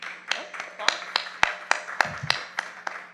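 A small audience at a school board meeting claps sparsely: about a dozen distinct, sharp claps at an uneven rhythm, fairly close, with faint talk underneath.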